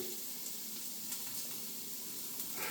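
Mushrooms, onions and jalapeños sizzle steadily in grease in a pan over medium heat, a soft, continuous crackle that stays even throughout with no voices.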